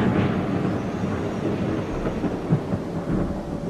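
A thunderstorm rolls through a Jurassic World Evolution park, with steady low rumbling thunder and rain forming a dense, continuous roar that swells slightly in places, with no voices.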